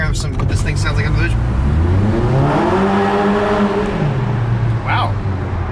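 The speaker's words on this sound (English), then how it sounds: "Rev your GTI. Ready? We're gonna hear what this thing sounds like on the bridge." A Volkswagen GTI revs and accelerates on a bridge, its engine note climbing loud and close through rising gears, easing off, then tailing away, with a voice talking over the start.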